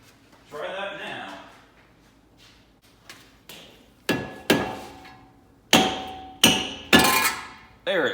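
A hammer strikes a stuck brake rotor on a Genesis Coupe. Several sharp, ringing metallic blows land close and loud, spaced about a second apart and getting heavier toward the end, after some softer scraping, with a voice talking faintly in between.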